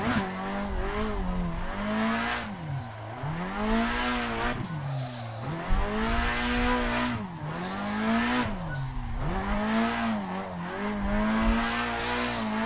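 A race car driven in the Assetto Corsa sim racing game on a motion simulator, engine note rising and falling continuously through repeated throttle lifts and reapplications, loud and steady for the whole stretch with tire squeal mixed in.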